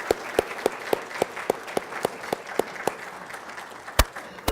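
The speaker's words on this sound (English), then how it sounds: "Please give me a round of applause." Applause from the audience at a 2018 State of the City address, a soft wash of many hands with a few sharper individual claps rhythmically standing out, moderately distant and steady throughout.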